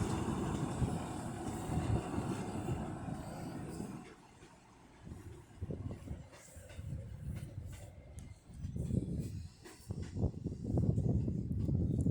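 Class 155 diesel unit 155343 passing through York station on the East Coast Main Line, a loud, close rumble that swells and fades in waves over a dozen seconds.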